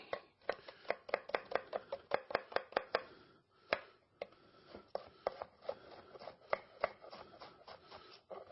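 An onion being chopped with a knife on a board, a rapid series of sharp close taps in quick bursts with short pauses between, no voices.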